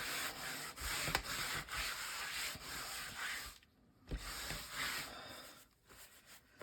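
Brisk rubbing and wiping strokes across a sanded junk journal page, clearing off loose sanded bits in a quick repeated rhythm with a couple of short pauses, close and fairly soft.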